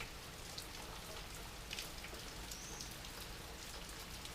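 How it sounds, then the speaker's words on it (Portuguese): Light rain falls steadily in the Bahia sertão, a soft, even hiss of drops on surfaces lasting throughout, faint and continuous with no voices. "Olha, não é chuva forte, mas graças a Deus dá pra molhar"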